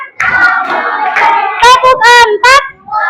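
Children clap along in a classroom counting game. A teacher's voice leads and is followed by several bursts of tight, rhythmic group clapping, loud and close, with voices in between.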